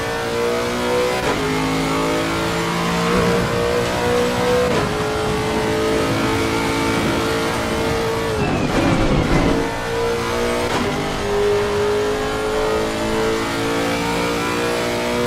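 Race car engine in the Automobilista 2 sim racing game revs hard and steadily while drifting through turns, loud and continuous with gear shifts, a brief dip near the middle and faint tire squeal.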